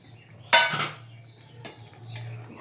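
A metal spoon knocking and scraping inside a pot while stirring chicken vapa, one sharp clink followed by a few softer taps over a low background hum.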